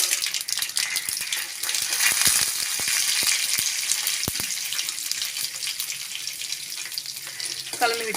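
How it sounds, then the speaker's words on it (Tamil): Chana dal fries in hot oil in a pan with mustard seeds while cooking a red amaranth stir-fry, giving a steady hissing sizzle with scattered sharp crackles and pops, close and continuous, without speech. "கடலைப்பருப்பு 1 டீஸ்பூன் சேர்த்துக்கலாம்."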